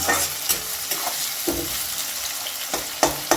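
Onions frying in oil in a pan, a close steady sizzle broken by several sharp scrapes and knocks of a spoon stirring them.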